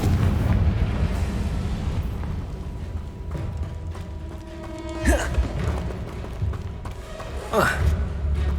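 Two heavy booms from the Confringo explosion spell in Hogwarts Legacy burst out a few seconds apart over a rumbling, busy game soundscape.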